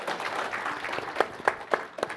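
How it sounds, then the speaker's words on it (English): Audience applause after a tech presentation, a moderate wash of clapping that thins toward the end into a few distinct, louder individual claps. "Let's get some applause first."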